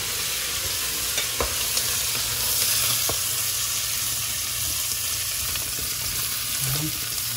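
Fresh tamban fish being stirred in a hot pan with pumpkin, giving a steady close sizzle broken by a few sharp scrapes and clicks of the utensil against the pan.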